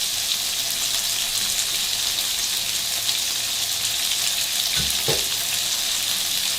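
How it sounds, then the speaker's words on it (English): Brown rice frying in a pan with vegetables and rosemary, a steady close sizzle throughout with a couple of brief stirring clinks near the end, no voices. "Rosemary smells so good when you're frying it like that."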